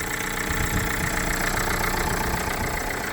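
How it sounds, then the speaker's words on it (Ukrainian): Renault Kangoo with about 200,000 km on it, its engine idling: a steady, even mechanical hum with a faint rapid knock, close and continuous with no talk. "заведений двигун"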